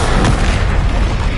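Confringo spell blast in the Hogwarts Legacy video game, a loud, dense booming explosion that rumbles continuously and close for the whole moment.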